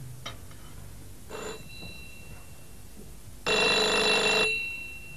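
A home telephone rings in short bursts: a couple of brief faint rings early on, then one long loud ring near the end, alone with no talk over it.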